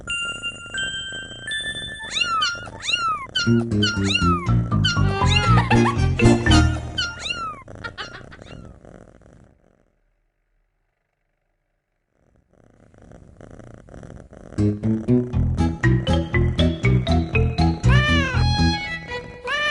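Several kittens meow repeatedly in high, overlapping cries, loud and close, falling silent for a few seconds before the mewing resumes.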